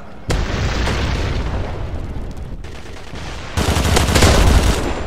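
Dense, continuous combat noise in the game CrossFire: booming grenade blasts and crackling gunfire throughout, swelling louder near the end, with no talking.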